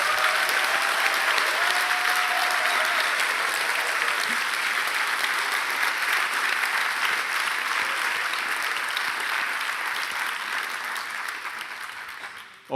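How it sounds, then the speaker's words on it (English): Sustained applause from an awards ceremony audience, dense and even clapping that holds steady before tapering off at the end. "Let's give them a very big applause."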